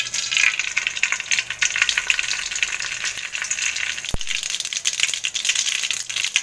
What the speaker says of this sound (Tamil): கடுகு பொரிஞ்சிருக்கு.